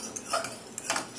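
A three-year-old stirs food in a bowl with a fork, the utensil scraping and ticking against the sides in a few light, irregular strokes, close and fairly quiet with no talking.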